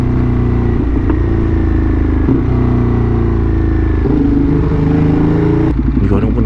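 Ducati motorcycles, two Multistradas and a Streetfighter, ride together in a steady, loud rumble of engines and wind, with occasional shifts and clatter along the way.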